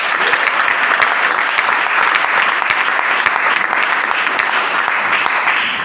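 Sustained, loud applause from a church congregation, many hands clapping in a dense, even roar that holds steady from start to finish.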